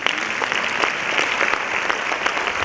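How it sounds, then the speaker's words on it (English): An audience claps steadily for three dedicated contributors at a devotional offerings event, a dense, even wash of many hands from start to finish with no voices on top. "3 dedicated contributors deserve 3 times the applause."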